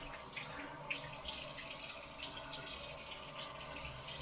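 Tap water runs steadily into a sink during an evening skincare routine while mascara is rubbed off, a continuous close splashing hiss with no talking.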